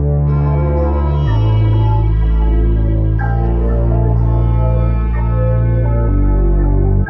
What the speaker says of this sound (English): So I've just layered it with the synth bass,